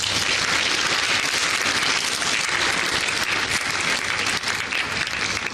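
Loud, dense applause from a crowd honoring students, including those with visual and hearing impairments, steady from start to finish without talk.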